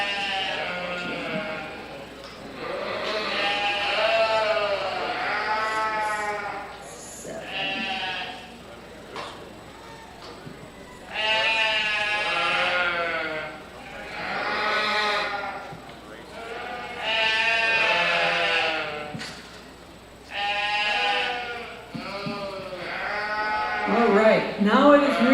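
Sheep and lambs bleat repeatedly in a show ring at a county fair livestock show, loud, wavering cries coming in overlapping bursts with short pauses between them.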